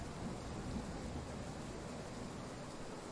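Steady wash of heavy rain with low rumbling thunder in a Train Sim World 3 thunderstorm on a Southeastern Class 395 Javelin high-speed line, dense and continuous throughout with no talk.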